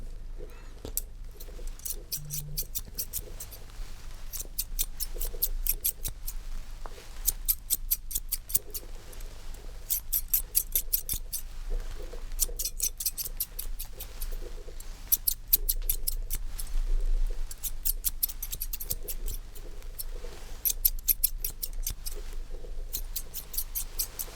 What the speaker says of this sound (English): do not trigger to these scissors